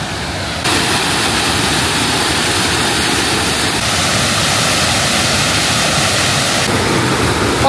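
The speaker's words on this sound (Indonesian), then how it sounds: "Wow, ada air terjun." Waterfall on the Zêzere river in Portugal, a loud, steady broadband rush of falling water filling the whole stretch without a break, with no voices heard.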